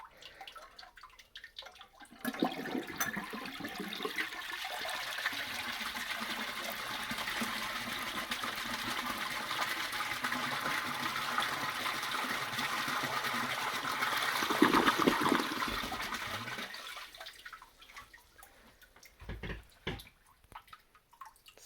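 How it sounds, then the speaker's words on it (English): A pink 1950 Standard one-piece toilet flushes with a steady, fairly quiet rush of water that holds for about fifteen seconds, swells briefly near the end, then drains away into trickles and silence. "Alright, so I'll give it one more flush here."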